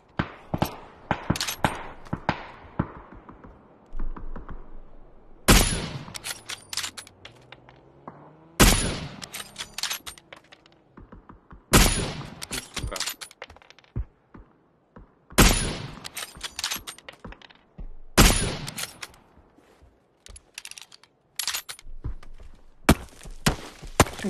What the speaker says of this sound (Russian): А, вот сейчас стреляет чел, один вдалеке